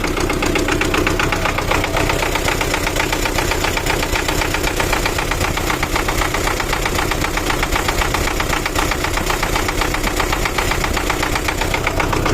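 Cold farm machinery engine after prolonged hard frosts, running with a steady rhythmic knocking clatter throughout, loud and close, with no talk.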